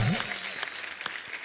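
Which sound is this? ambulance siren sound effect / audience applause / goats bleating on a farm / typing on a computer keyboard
audience applause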